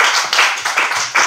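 An audience at a live acoustic music show claps in a brief, dense burst of applause, close and loud.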